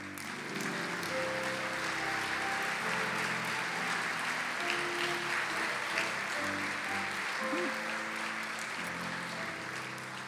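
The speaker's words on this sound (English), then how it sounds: "please stand as we applaud you" An awards ceremony audience applauds principals, counselors and teachers, a long even stretch of dense clapping across a large hall, with faint voices and tones underneath.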